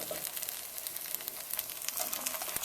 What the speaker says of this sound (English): Put the sandwich on there. You'll hear it start to sizzle.